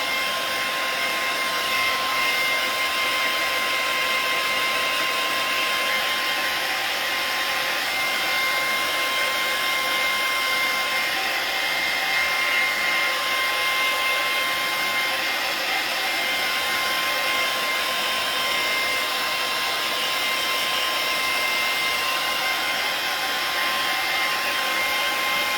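A hair dryer blows steadily on a sea turtle art piece, a loud, close, unbroken whooshing whine with a faint tonal hum, lasting the whole stretch with no voices.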